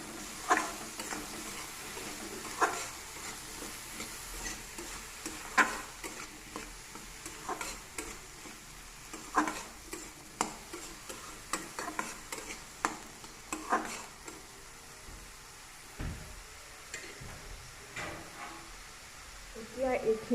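Eggplant fries on low flame with fish belly in a pan, a soft continuous sizzle broken by repeated scraping clicks of a spatula stirring, close and moderately quiet.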